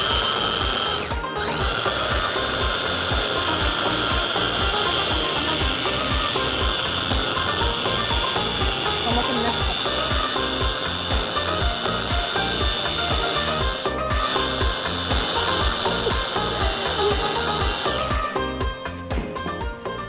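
Fresh tomatoes are minced in an electric chopper or blender for a hummus dish, giving a continuous, loud motorized whir with a rapid churning pulse that runs steadily before cutting off near the end.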